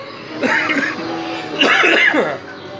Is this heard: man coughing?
yes